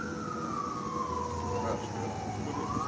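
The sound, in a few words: ambulance siren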